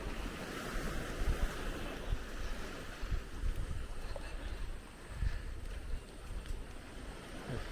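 Ocean waves wash steadily onto a beach in Lombok, a continuous broad surf roar with wind buffeting the microphone and no voices.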